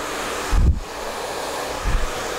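Hot air roars steadily from a hair dryer during a wavy blow-dry, with the airflow striking a round brush and hair; two brief low thumps of handling sound close to the microphone.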